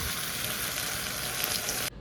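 Poppy seed paste added to potatoes frying in a wok, giving a loud, steady, close sizzle that holds for about two seconds before dropping suddenly, with no voices.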